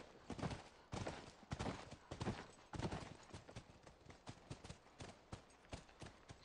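Horse hooves clip-clop in a quick, uneven rhythm, loud and close at first, then lighter and softer toward the end, in the video game The Last of Us.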